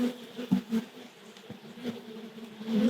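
A swarm of wild bees in a kitchen cupboard buzzes steadily and close by, the hum rising and falling with a few louder bursts as insects pass near.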